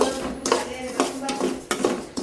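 A spoon scrapes and clinks against a cooking pan while onion, tomato, green chilli, curry leaves and grated coconut are stirred, giving several sharp metallic knocks in an uneven rhythm.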